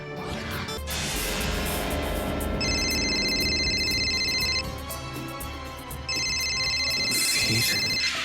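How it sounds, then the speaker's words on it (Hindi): A telephone rings late at night in two long bursts of a steady, bright electronic ring, set over a loud music score with crashing hits. "हाँ वीर, इतनी रात को फोन किया, सब ठीक तो है?"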